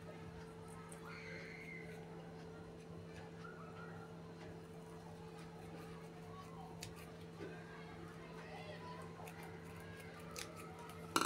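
Scissors cutting styrofoam diagonally into flower petals: faint, repeated crisp snips and scraping close by over a steady low electrical hum, with soft speech in the background.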